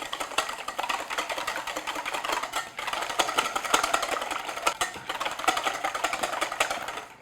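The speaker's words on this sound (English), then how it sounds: "And then I'm just using my whisk to break that up." Three eggs being whisked in a bowl to break them up, a steady rapid clicking of the whisk against the bowl that runs continuously and fairly close, with no talk over it.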